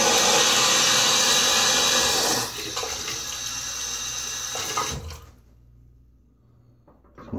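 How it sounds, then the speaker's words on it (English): Water gushes hard from a bathroom sink faucet for a few seconds while a razor is rinsed, then the flow drops to a softer stream and shuts off, leaving near silence. "It's one of those faucets where I just never know when I'm going to hit the turbo mode."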